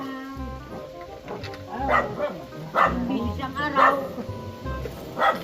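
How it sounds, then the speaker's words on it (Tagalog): Dog barking repeatedly nearby in a rural outdoor setting, several loud barks spaced a second or so apart, with people talking over and between them. "maingay ang aso dyan"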